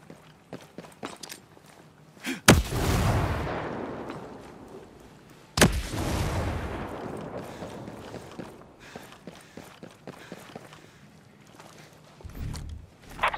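A grenade explosion and gunfire in the shooter game Ghost Recon Breakpoint: two heavy booming blasts a few seconds apart, each with a rumbling tail, amid sparse scattered shots and small movement sounds.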